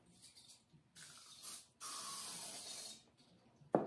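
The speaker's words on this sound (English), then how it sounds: "So I spray it down" PAM cooking oil spray being sprayed onto tile frame molds, heard as two close hissing bursts, a short one followed by a longer sustained spray, with light handling noises between.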